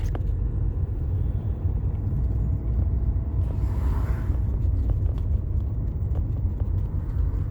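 A car pulls away and shifts into second gear, its engine and road rumble droning steadily from inside the cabin, with faint clicks and a brief swell in the middle.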